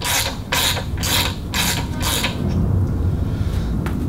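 A ratchet works a corroded bolt on a Yamaha outboard, giving a run of five or six loud, rhythmic clicking strokes, then a quieter grinding creak as the stiff bolt slowly turns.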